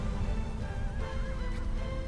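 A horse neighs in the Shadow of the Colossus video game, a clear whinny heard over a dense, steady layer of game sound and music, with no talk.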